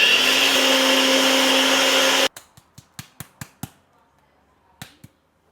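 A kitchen blender whirs loudly and steadily as it grinds rolled oats into flour, then cuts off abruptly, followed by several sharp, close taps and clicks.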